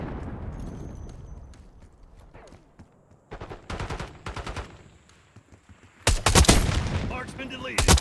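Video game gunfire rings out in loud bursts of rapid shots, a cluster in the middle and a heavier barrage near the end, over a low rumbling background.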